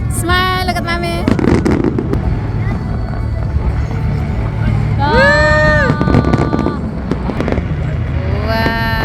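Fireworks pop and crackle during a Bangkok dinner cruise, loud and close amid crowd voices and long, horn-like tones.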